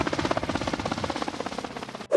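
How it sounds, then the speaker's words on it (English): A Kamov Ka-50 Black Shark, a single-seat Russian attack helicopter with coaxial rotors, gives a loud, close, rapid rhythmic blade thumping that is steady throughout and ends with a sudden cutoff. "The Kamov K-50 Black Shark, also known as the HOKM A by NATO, is a single-seat Russian attack helicopter with distinctive coaxial rotor system."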